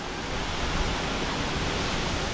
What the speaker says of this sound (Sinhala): මේ ස්වභාවිකව කඩා හැලෙන වතුර පාර